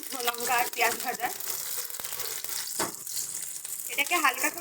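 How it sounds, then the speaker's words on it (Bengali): Onion and dried red chili hit hot oil and sizzle in bursts and crackles, moderately loud, while someone talks over the frying. "তেল গরম হয়ে গেছে, দিয়ে দিচ্ছি পেঁয়াজ আর শুকনো লঙ্কা ফোড়নে।"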